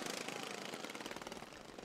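Racing lawn mowers with blades removed roar around the Elk River track, a dense, rattling engine din that stays loud and continuous, heard from fairly close.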